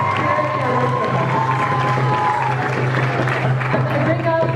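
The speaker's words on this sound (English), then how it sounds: "So let's give everybody please a round of applause and thank them all for sharing their work with us." An audience at a student union poetry slam applauds and cheers, a dense wash of clapping with scattered whoops and a low crowd murmur, steady and close throughout.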